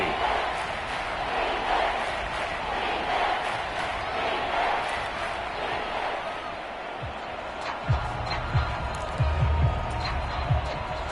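A large football crowd roars inside a domed stadium during a tense overtime goal-line moment, a dense, sustained rumble of voices and cheering with a few thuds near the end.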